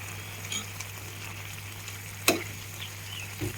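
Spiny gourd curry simmering in oil as it is stirred, a quiet continuous sizzle with a low steady hum underneath and one sharp clink of a spoon against the pot.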